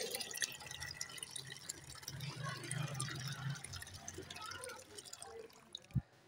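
Water runs into a bucket during a bicycle service, a soft continuous trickling and splashing that stays fairly faint, while people talk over it.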